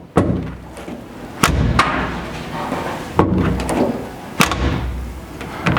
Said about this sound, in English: just to listen to the door